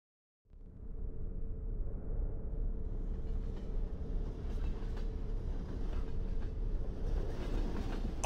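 Moving train in the horror game Underhell, a steady loud rumbling roar of wheels and carriage that starts abruptly after a brief silence and runs continuously, with faint rattling clatter on top.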